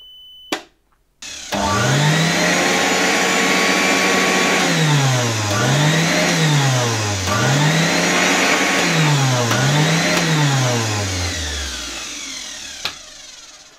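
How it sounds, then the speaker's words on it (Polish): A 1984 Zelmer type 200 vacuum cleaner switches on after a click and runs loudly and steadily at close range, its motor pitch rising and dipping in a repeated wavering pattern before winding down, with a final click near the end. "postawiłem sobie tutaj na stole warsztatowym mój znany już z tego kanału odkurzacz Zelmer typ 200 z 1984 roku"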